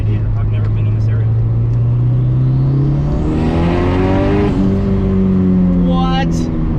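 A Nissan S14 with a turbocharged KA four-cylinder engine revs hard and close, its pitch climbing steadily as the turbo spools, then holding and falling away, with a whistling rise near the end.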